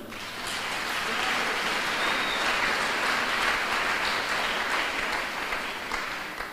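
A church congregation applauding the Lord, sustained dense clapping that swells and holds steadily throughout, loud and crowded.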